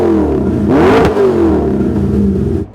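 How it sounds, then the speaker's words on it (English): A 627HP LSX V8 in a K10 truck, breathing through 3-inch stainless Borla mufflers, blips once loud and close, its deep exhaust note rising sharply and then falling back to a rumbling idle. "Running through 3-inch stainless Borla mufflers."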